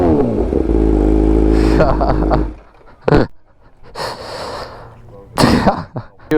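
A motorcycle engine runs loud and rumbling for a couple of seconds, then cuts out, leaving quiet gaps broken by coughs and heavy breaths.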